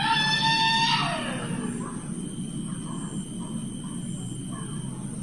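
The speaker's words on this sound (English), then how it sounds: "It was like a lady yelling, screaming." A distant high-pitched wail like a woman yelling and screaming, loud for about a second before sliding down and fading into steady background noise.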